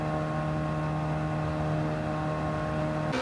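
Toyota Prius engine in Gran Turismo 7, a steady, droning hum at an even pitch with no revving, ending in a brief shift at the close.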